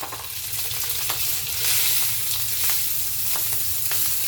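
Cooking oil frying in a pan for a simple breakfast, a continuous crackling sizzle with scattered pops, close and steady with no talking.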